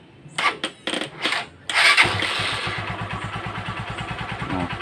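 A Honda TMX Supremo 150cc motorcycle, its carburetor just cleaned, gives a few sharp revving bursts, then a brief start-up rattle, then settles into a close, steady thumping idle.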